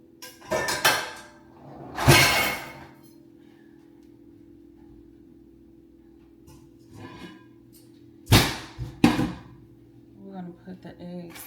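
Eggs go into a container with a few close clunks and hollow knocks in separate bursts, amid quiet kitchen room tone and brief talk.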